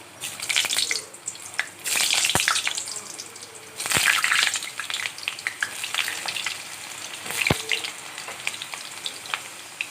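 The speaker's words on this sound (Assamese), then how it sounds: "আলু কেইডোখৰ মই প্ৰথমে অকণ ভাজি ল'ম।" Potato pieces fry in hot mustard oil over medium heat, giving a loud, crackling sizzle. Sharp clinks and bursts come as the pieces are stirred.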